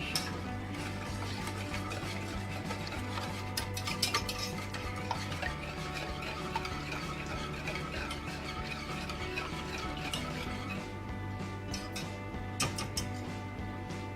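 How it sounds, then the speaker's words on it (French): Eggs are stirred for a French lemon tart filling, a soft continuous scraping and ticking of utensil against bowl, fairly quiet, running under steady background music without speech. "Les œufs, et on remue."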